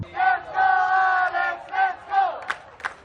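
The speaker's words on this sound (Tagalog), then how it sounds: "Dagundong ang hiyawan ng Pinoy fans." Filipino fans at a SEA Games tennis match roar in bursts of cheering and shouting after a straight-set win, loud surging yells fading into shorter cries.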